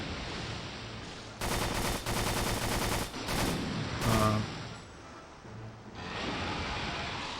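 Rapid gunfire from the PS2 game Extermination comes in dense, loud bursts, a long sustained volley followed by shorter clusters of shots, over a steady ambient background.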